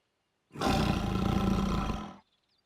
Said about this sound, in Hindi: ओह, तो तुम हो वो खतरनाक बाघ।